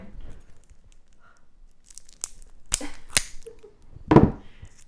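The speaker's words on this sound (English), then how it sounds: "Assuming I can get this pack of cards open." Foil card pack for Deep Rock Galactic: The Board Game ripped open in a few sharp tearing bursts, the loudest near the end, with brief crinkles between and quiet room tone.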